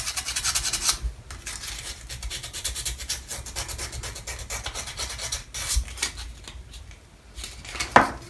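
Sandpaper smooths the edges of a small 1/250 scale model ship casting, producing close, quiet, irregular rasping strokes with short scratchy bursts and a light tap near the end.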